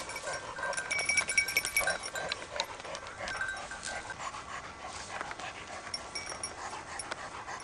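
A dog pants rapidly and close by outdoors in the countryside, a quiet, breathy, rhythmic huffing that stays steady with no talk.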